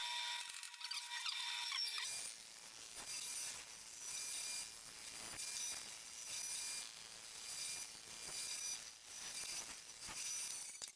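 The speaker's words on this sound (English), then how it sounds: "I placed the chisel on the scribe line and removed the rest of the waste." Steady rasping and scraping of a chisel paring waste from dovetail tails on a wooden highboy base, with repeated rhythmic strokes that begin after about two seconds of near silence and stay close and moderately loud.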